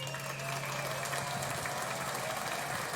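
A soundboard clap effect plays as a steady, dense wash of applause-like clapping for about three seconds, moderately loud and continuous.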